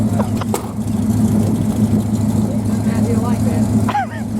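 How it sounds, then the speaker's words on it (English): A hot rod's engine idles steadily with a deep, even rumble, loud and close, while people talk over it throughout. "I mean, it idles beautifully."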